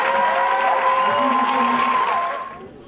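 Audience applause at a school review day in a hall, dense clapping that swells and then fades out, with a voice or tonal sound running over it.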